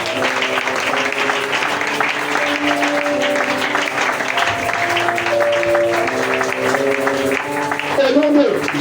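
A church congregation applauds and cheers for Jesus during a worship service, dense sustained clapping blended with music and voices throughout.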